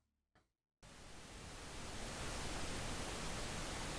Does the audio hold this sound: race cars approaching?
no